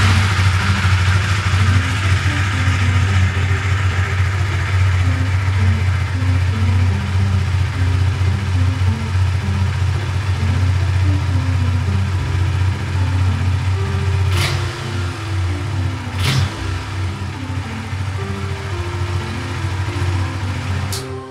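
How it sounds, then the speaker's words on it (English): A Husqvarna Svartpilen 401 motorcycle on its stock exhaust idles with a steady, throbbing rumble, then revs up and down in a few blips before settling back, heard close and loud without talk. "So, soundcheck tayo. Stock pipe ni Husqvarna,"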